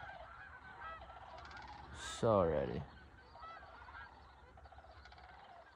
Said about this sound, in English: some honkers going down in the pond